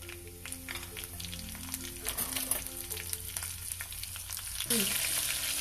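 Mustard seeds, cumin seeds and chopped green chilies frying in hot oil, a steady close sizzle with scattered crackles and pops that swells briefly near the end as more ingredients hit the pan.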